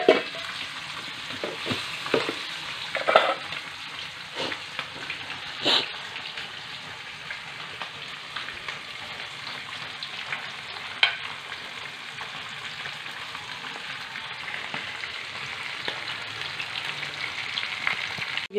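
Squid adobo with tomatoes sizzles steadily in a pan, a continuous close frying hiss broken by frequent scrapes and clinks of a utensil stirring the mixture.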